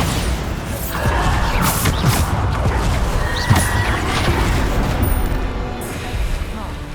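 Bombarda blasting-spell explosions in Hogwarts Legacy, repeated booming bursts in dense layered combat noise, continuous and loud with no talking.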